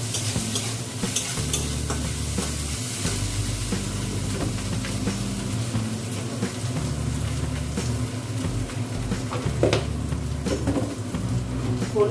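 Ginger paste frying in a pan while being stirred, a steady sizzle with scraping strokes and occasional clinks of utensil on metal, close and continuous without talk.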